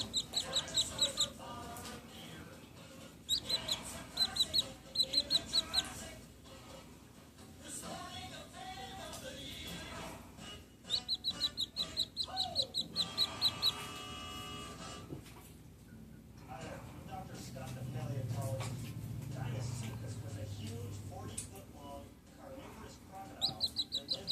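Newly hatched chicks in a Pro Series incubator give repeated bursts of high peeping, with a louder low rumble partway through and some background noise.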